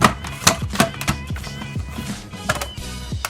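Kitchen whiz food processor chopping fresh parsley into small pieces, with sharp, uneven choppy bursts and clatters repeating quickly for a few seconds, close and moderately loud, no talking.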